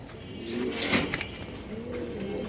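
Black Damascene pigeons coo at a pigeon farm in Dhaka, soft throaty close-up coos repeating over low background noise.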